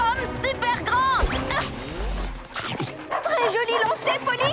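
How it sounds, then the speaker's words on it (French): Two cartoon stadium security dogs bark, yip and whimper while giving chase, in busy, close bursts mixed with animated character voices talking over them. "Ça a peut-être un rapport avec les 2 chiens de sécurité du stade qui nous courent après."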